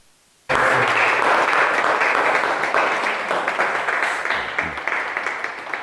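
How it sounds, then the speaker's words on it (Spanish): An audience at a history lecture in Santo Domingo de Silos bursts into sudden applause for a speaker named Antonio, loud, dense clapping that starts abruptly and gradually thins into scattered claps. "un fuerte aplauso para Antonio"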